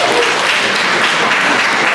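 A mayoral debate audience claps in a dense, loud wash of applause that runs steadily through the moment, with no voices standing out above it.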